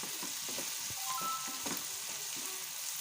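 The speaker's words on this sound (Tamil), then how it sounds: "குடமிளகா பாருங்கள் நல்லா வதங்கியிருக்கு" Capsicum sautéing in a pan for potato capsicum rice, a soft continuous sizzle with a few light stirring taps, fairly quiet and without speech.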